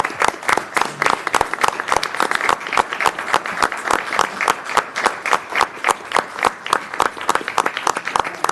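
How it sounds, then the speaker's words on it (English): A city council meeting audience in South Haven, Michigan, claps steadily and rhythmically for several seconds. The sharp individual claps are close and evenly spaced, and there is no talk over them. "then we'll give him a big round of applause"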